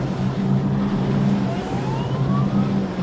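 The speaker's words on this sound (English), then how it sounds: "The alarms, the sirens are going." Wailing sirens sound steadily at the Big Boat Challenge yacht race in Sydney, with a sliding siren tone rising across the middle, over a loud, continuous background roar.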